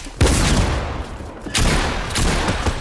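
Gunfire in Fortnite Battle Royale, three loud shots or short bursts ringing out at close range, with nobody talking.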